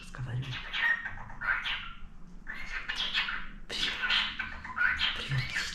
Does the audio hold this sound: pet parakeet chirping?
yes